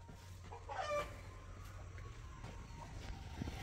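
A rooster at a village farm clucking, a few short clucks early on, faint and somewhat distant over low background noise.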